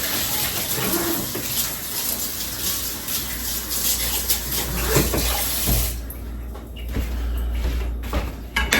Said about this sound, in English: I'm gonna rinse my knife